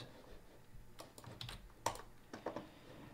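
Computer keyboard keys are typed while renaming ports on iConnectivity USB interfaces, a sparse cluster of quiet, close clicks in uneven bursts with short pauses between.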